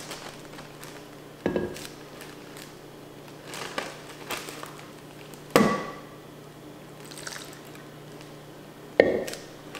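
Tomato juice from vine-ripened tomatoes poured into plastic freezer bags, heard as a few separate splashy pours and plastic crinkles spaced out against a quiet kitchen background.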